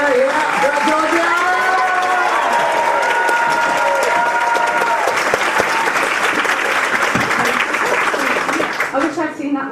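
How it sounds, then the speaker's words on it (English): An audience at a BettaKultcha Leeds talk event claps and cheers in a dense, continuous wave of applause with shouting voices on top, sustained for about ten seconds before tapering. "what I'm going to get these people at this end to start applauding, and then we're going to start this kind of ripple effect"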